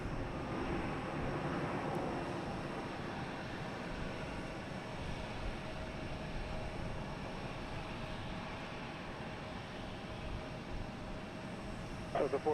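A jet airliner at Logan Airport, heard from roughly a mile off as a steady, broad roar that holds at an even level for the whole stretch with no talk over it.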